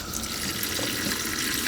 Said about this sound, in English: And then I'm going to fill this with water.